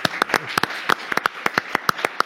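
Scattered audience clapping after a radio presenter invites applause for the Radio Immo and Figaro Immobilier teams at a Nantes property event; a dozen or so sharp, uneven claps sound close and sparse rather than a full ovation.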